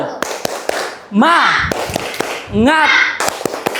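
Group rhythmic clapping of a tepuk semangat cheer at an ice-breaking session, sharp claps in short patterned bursts alternating with loud chanted voices.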